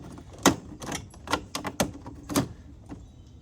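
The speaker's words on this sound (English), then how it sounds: "Get your intake runners lined up on the bottom so that they snap into place." Plastic intake runners on an Audi 4M Q7 engine snap into place with a series of sharp, close clicks and knocks spread across a few seconds, the loudest ones distinct and separate.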